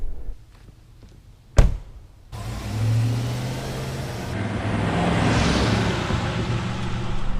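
A 2021 fifth-generation Cadillac Escalade Sport Platinum has its door thunk shut, then drives off: the engine hums and builds smoothly into a steady, moderately loud road and motor drone heard from inside the cabin, with no talking.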